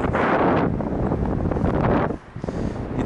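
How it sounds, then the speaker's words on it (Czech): Strong wind buffets the microphone in a steady roar at the top of a light tower, dipping briefly near the end before gusting again. "samozřejmě ten vítr se opírá"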